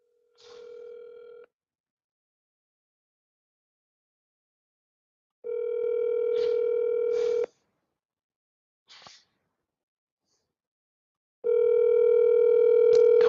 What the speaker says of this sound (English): Come on, answer the phone, Carlos.